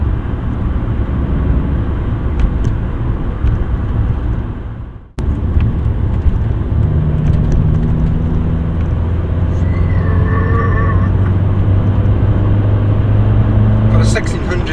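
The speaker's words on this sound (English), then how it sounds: "You can still feel it labouring to pick up, but it's definitely better than it was." A poorly running 1.6 FSI car engine labours as it revs up, a steady loud low drone with a brief dip midway before the revs climb again with rising tones, heard from inside the car.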